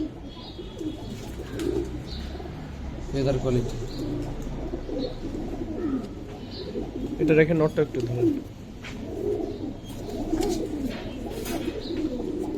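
Giribaz high-flyer pigeons coo softly in the background while people talk close by at a pigeon sale, the low calls recurring under the conversation.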